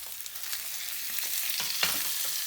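Salmon fillet frying and crisping in a hot pan with garlic, a steady close sizzle with a few brief pops and crackles, no voices.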